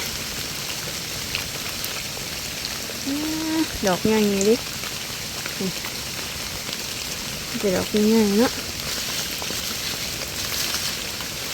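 Rain falls outdoors while termite mushrooms are gathered, a steady broadband hiss running throughout under two short bursts of speech.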